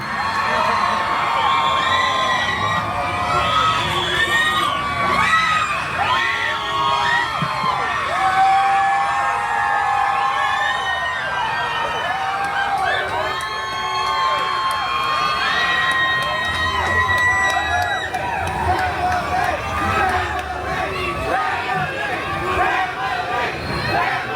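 A large crowd at a car show cheers and screams continuously, with whoops and shouting voices blending into a loud, sustained roar.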